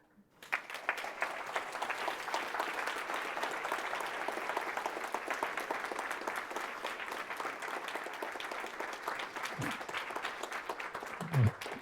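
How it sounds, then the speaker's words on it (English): Sustained applause from a conference audience after a keynote at a Haskell programming event, steady and dense for about ten seconds before tapering, with a brief low voice at the end. "big round of applause, please"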